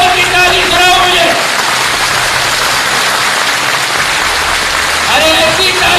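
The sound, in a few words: crowd applause at a political rally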